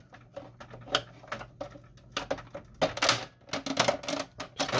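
Plastic tabs on a Canon Pixma iP2600 inkjet printer being pushed back and released during disassembly, giving a run of sharp, close clicks and clacks in irregular bursts, with no talking.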